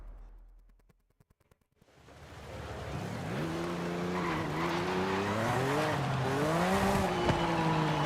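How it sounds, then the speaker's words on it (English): Car in the Forza Horizon 5 game, revving up from near silence into a loud, steady engine drone that climbs and shifts pitch through the gears, with rough tire noise and a brief squeal, and no talk. "It sounds so much like a Porsche."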